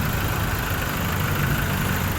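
A freshly overhauled Toyota Innova engine idles steadily, a smooth continuous low rumble with even mid-range hum, close and constant with no talk.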